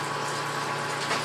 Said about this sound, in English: I got cold water moving through, and we got the wort coming out.